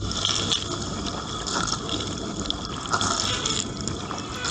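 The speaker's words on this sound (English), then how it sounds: "The first stage starts with pumping water inside," Water rushing and filling inside a transparent dishwasher at the start of its longest two-hour cycle, about three liters pumped in; a steady close hiss and gurgle of liquid with a constant hum, no talk.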